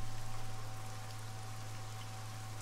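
Steady rain in the military shooter game Arma 3, a constant dense hiss of falling drops with a low droning hum underneath, even and unbroken throughout with no voices.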